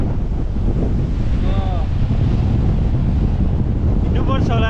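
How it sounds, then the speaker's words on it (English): Strong wind gusts over open water near Pokhara, Nepal, with rain nearby, roaring steadily and loudly into the microphone throughout, while faint voice-like tones surface briefly in the middle and near the end. "such force, the wind."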